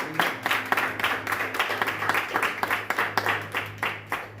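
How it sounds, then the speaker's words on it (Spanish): Applause from a church congregation, a steady patter of claps over a sustained low musical tone, moderately loud and continuous throughout. "Den un aplauso fuerte al Señor."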